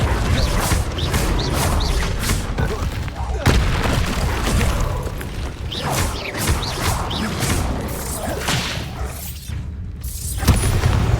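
Bombarda spell blasts going off in the Hogwarts Legacy video game, loud booming crashes and whooshes that run almost continuously, with someone talking over them.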